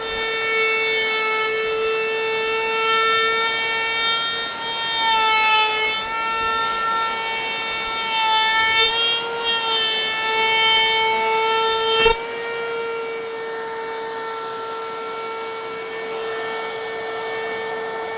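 A handheld wood trimmer router cuts the edge of a wooden lathe cart, its motor holding a steady high-pitched whine for about twelve seconds before cutting off abruptly and leaving a fading spin-down hum.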